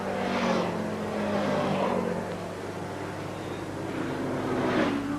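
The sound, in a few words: racing motorcycles at the Castrol 6 Hour race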